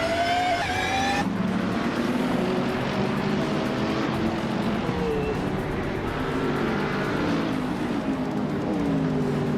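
Race cars, a 2015 Mercedes-Benz 45 AMG among them, roar past in a TCR-class race, one engine revving high before a dense blend of several engines drones and rises in pitch.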